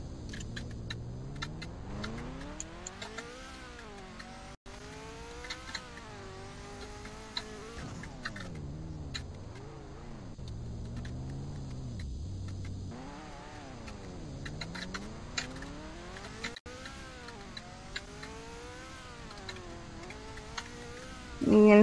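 Cars in the Roblox game Robloxian Town Car Crusher Sim with realistic vehicles, driving at high speed, with engine tones rising and falling continuously and brief crash impacts, moderately loud throughout.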